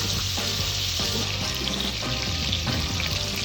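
Turkey bacon frying in a pan for pasta, a dense, steady sizzle and crackle that fills the whole clip at close range with no voices.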